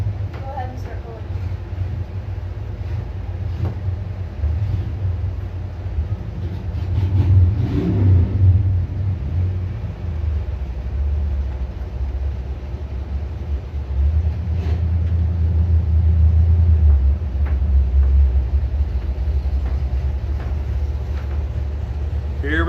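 Drag racing cars at a Chevrolet event rumble and rev with deep engine noise that swells as they launch, with voices talking over it.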